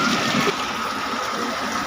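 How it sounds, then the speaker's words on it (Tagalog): Steady, dense rush of heavy rain and running water, loud and continuous with no pauses, a broad hiss filling the whole clip. "Basta malakas talaga ng ulan."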